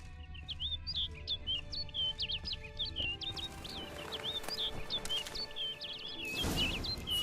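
A bird in the video game The Witcher 3 chirps in a rapid series of short, high tweets over a quiet ambient bed, fairly faint and with no talking.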